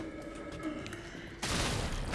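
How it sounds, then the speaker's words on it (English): A grenade explosion in Resident Evil 3 erupts suddenly after a quieter stretch of game ambience, a loud broadband blast that stays rumbling to the end. "I'm gonna have to use this grenade."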